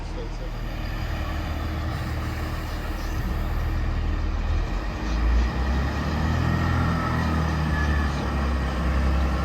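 A Networker multiple-unit train passing through a station on the Chiltern line near London Marylebone and Princes Risborough, a steady engine-and-wheel rumble that swells toward the end, with people talking over it.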